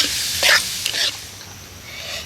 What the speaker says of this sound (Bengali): ওই তেলের মধ্যে আমি কিছুটা কালো জিরে দিয়ে দিচ্ছি। কালো জিরেটা ভেজে নিয়ে